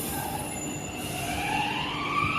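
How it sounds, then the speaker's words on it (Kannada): A metro train rumbles close by with rising metallic squeals and whining tones as it rolls into a station and slows. "ಐ ಟಿ ಪಿ ಎಲ್ಲಿಗೆ ಹೋಗುವ ಮೆಟ್ರೋ ಬಂತು ನೋಡಿ"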